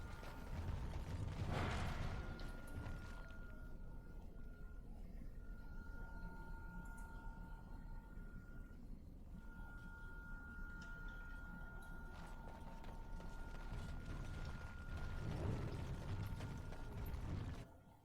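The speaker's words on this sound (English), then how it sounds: "Let me just click the suspicious door." A suspicious door opening in the video game Dragon Age: Origins, with long creaking, grinding mechanism sounds and low groans that build, ease off and swell again over a steady rumbling ambience.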